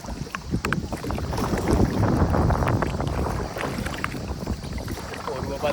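Kayak paddles working through lake water at Samanala reservoir, a steady broadband churn of splashing and strokes with wind buffeting the microphone, close and fairly loud throughout.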